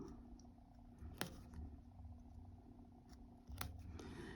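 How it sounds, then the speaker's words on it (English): Embroidery scissors snip through cross-stitch stitches on fabric, two crisp close cuts about two seconds apart over a quiet room hum. "This is very easy to snip those stitches."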